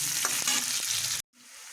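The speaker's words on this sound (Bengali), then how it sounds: "এবার আমি একটু ভালো করে ভেজে নেব" Chopped onion sizzles hard in hot oil with panch phoron and dry red chilli, a loud crackling hiss with a few stirring scrapes, then cuts to a softer, quieter sizzle.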